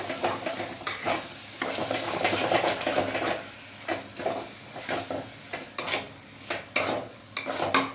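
Tomatoes are stirred into a frying Bihari-style fish masala with mustard paste in a pan, giving close sizzling and irregular scraping and clinking strokes, with no voices.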